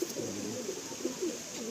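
Pakistani teddy pigeons in a loft give soft, low coos in several short rolling phrases over a faint steady background hum, fairly close.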